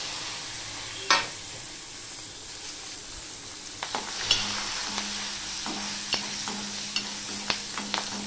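Slit green chillies and turmeric frying in oil in a pan for a spinach dish, a steady close sizzle with scattered clinks and scrapes of stirring, one sharp knock early on, no talking.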